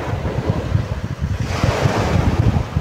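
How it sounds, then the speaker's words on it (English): Sea waves wash onto the shore at sunset beneath steady wind buffeting the microphone, a continuous rolling surf with low rumbling swells, close and fairly loud, with no voices. "The sound of the sea behind me."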